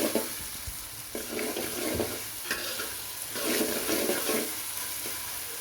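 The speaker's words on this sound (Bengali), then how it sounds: "সব মশলা এখন দিয়ে দিব। আদা, রসুন, তেজপাতা, এলাচ, দারচিনি একটু ভাজা ভাজা হয়ে গেলে" Onion frying with ginger, garlic, bay leaf, cardamom and cinnamon in a pan, a soft continuous sizzle broken by scraping stirs at a moderate distance.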